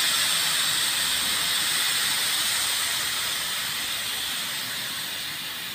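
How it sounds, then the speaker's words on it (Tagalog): Nitrogen hissing steadily out of an R22 refrigerant charging system as it is vented down to zero, a loud, continuous high hiss that slowly weakens over several seconds, with no talk. "Kasi singawin natin guys itong ating nitrogen."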